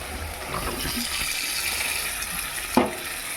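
Fried cauliflower and potato pieces tipped into sizzling masala, a steady frying hiss with soft stirring and a sharp clatter as the vegetables drop in near the end.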